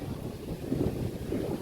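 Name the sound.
wind blowing outdoors at a temple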